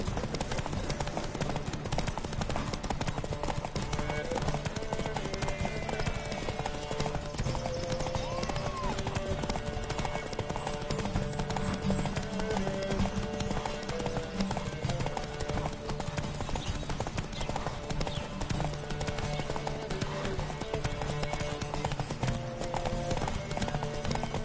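Galloping horse hooves in a race from The Witcher video game, a steady rapid clip-clop running throughout over a dense bed of music and ambient game sound, with voices occasionally heard.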